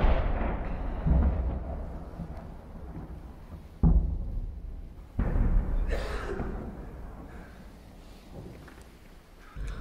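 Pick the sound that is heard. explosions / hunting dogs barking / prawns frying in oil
explosions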